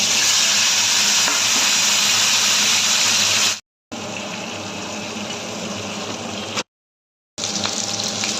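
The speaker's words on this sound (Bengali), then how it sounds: "এটা ভেজে নেবো।" Vegetables fry in hot oil for a Bengali rui fish curry, giving a loud, steady, close sizzle that is cut by two brief silent breaks.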